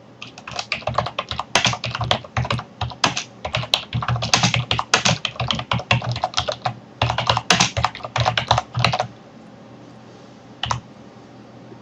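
Rapid typing on a computer keyboard, close and crisp, with dense bursts of clicking keystrokes for about nine seconds, then quiet apart from a single later tap.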